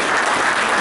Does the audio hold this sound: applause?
yes